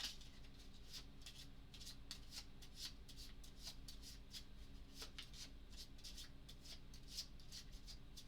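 A deck of cards for the Arkham Horror card game being riffle shuffled, a rapid run of crisp fluttering bursts repeating in quick rhythm, close and quiet, with a low steady hum underneath.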